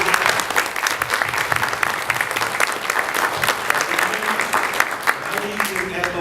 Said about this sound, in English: we need to give them a round of applause